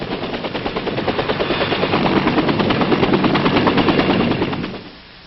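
Military helicopters at a hastily set up forward refueling pad in Vietnam give a loud, steady, close rotor chop with rapid thudding blade beats and turbine roar, fading away at the end.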